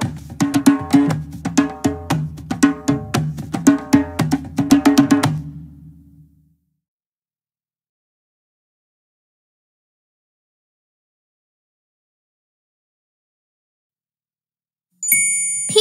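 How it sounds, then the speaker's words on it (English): An African djembe drum played in a quick, lively rhythm of repeated bright hits for several seconds, then falling silent, with a faint chime entering at the very end. "The djembe is a kind of drum that comes from Africa."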